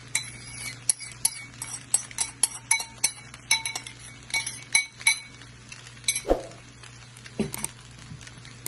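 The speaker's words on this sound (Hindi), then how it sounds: "और यहाँ पे हमने जो सॉस बनाई थी वो अब हम इसमें अच्छी तरह से मिक्स कर देंगे।" Spaghetti, vegetables and sauce tossed together for chicken chow mein, with a quick run of close, bright clinks and taps of utensils against the pan, then a softer scrape, and no voices.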